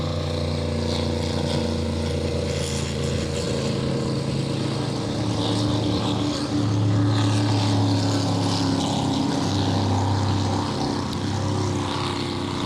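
An APBA inboard racing boat engine drones steadily on Lake Michigan as the boat pulls out of the pits, a loud, continuous roar that swells slightly midway with no speech over it.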